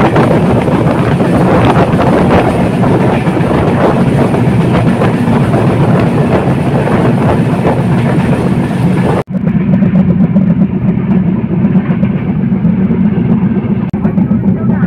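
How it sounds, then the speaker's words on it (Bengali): Panchagarh Express train running at high speed, a loud, continuous rumble and rattle of wheels and carriages with wind rush, turning suddenly more muffled partway through. "ট্রেনটি এখন প্রচণ্ড বেগে ছুটে চলেছে।"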